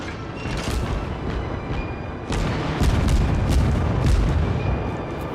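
Naval shell salvo hits in World of Warships, a steady roar of deep booms and explosive bursts with several sharper impacts crashing in one after another, loud and close.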